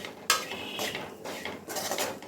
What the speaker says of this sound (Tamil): குழம்பு மிளகாய் தூளும் சேர்த்துட்டு ஒரு 30 செகண்ட்ஸ் இப்படி கலந்து விட்டுக்கணும்